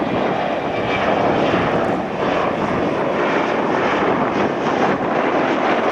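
A fixed-wing airplane flies over near an airport runway in Playa del Rey, Los Angeles, a loud, steady engine roar that holds without a break, with no talking.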